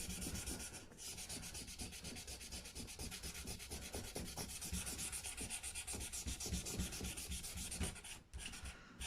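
Fine sandpaper rubs steadily over the wood of a Gibson Les Paul guitar, with close, rhythmic rapid scraping strokes and a brief pause near the end.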